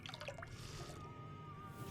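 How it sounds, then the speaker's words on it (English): Water trickles and drips steadily from a source in Fallout: New Vegas as a character drinks, with a faint gurgle and a thin tonal whine over a quiet game ambience. "let's just drink loads of water, get ourselves healed up that way"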